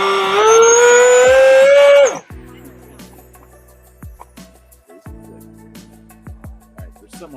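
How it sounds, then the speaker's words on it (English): An FPV remote-control car's throttle gives a loud, steady electric whine for about two seconds, then cuts off abruptly, leaving quieter scattered clicks and ticks. "So the little stutter you hear is just because my throttle is engaged a little."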